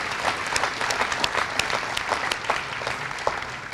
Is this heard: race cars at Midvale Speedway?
no